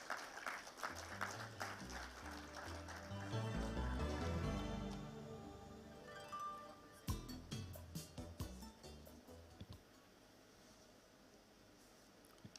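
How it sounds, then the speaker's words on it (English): An audience applauds as the Deputy Minister for Finance is welcomed to speak, a quiet wash of clapping that swells midway and then breaks into sparse individual claps as it fades. "Ladies and gentlemen, a round of applause."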